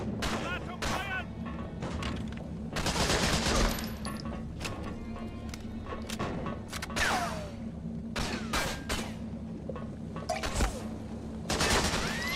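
Gunfire in the World War II shooter game Medal of Honor Frontline: repeated loud bursts of rifle and machine-gun shots with booming impacts, clustered in rapid volleys over a constant low rumble, with occasional voices between shots.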